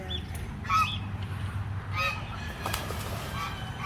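Several geese honk in short, repeated calls at moderate distance, overlapping against a low steady rumble.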